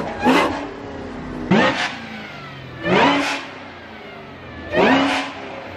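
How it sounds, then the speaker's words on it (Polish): Supercharged 1140-horsepower car engine revs four times in short bursts, each blip rising sharply then dropping back to a steady idle, loud and close with no talk. "A jeszcze słuchajcie, ten kompresor jak brzmi."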